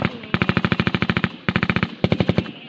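Bursts of rapid automatic gunfire off to the right in a real military firefight, three sharp, loud volleys of closely spaced shots with brief pauses between them.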